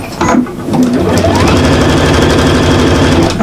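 A sewing machine stitches the last seam of a shopper bag, starting after a brief pause and then running in a fast, steady mechanical chatter at close range, loud and without speech.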